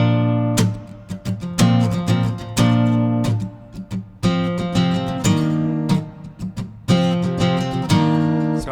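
Acoustic guitar plays the intro lick of the worship song House of the Lord, close and clear, with bright plucked notes and strummed chords in a lively rhythmic pattern, no voices.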